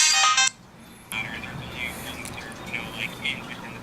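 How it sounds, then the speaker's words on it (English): A phone ringtone chirps briefly up close at the start, then stops, leaving quiet room tone with faint sounds from a game session in the background. "My phone's ringing."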